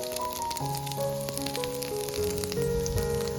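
Poha and potato vadas fry on a hot griddle, giving a steady, close sizzle throughout, with a soft tonal hum underneath and no talking.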